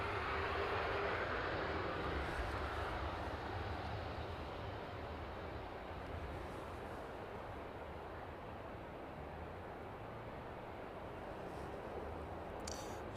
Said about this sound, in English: catch the West Atlantic as that taxis on to